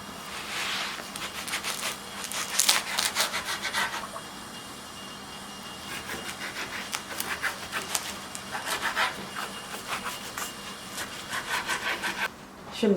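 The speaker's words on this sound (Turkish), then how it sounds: "Şimdi ekmeklerimizi kesiyorum." A knife saws back and forth through spinach-filled flatbread baked in a Hatay stone oven, giving repeated rasping strokes in bursts against a steady low background hum.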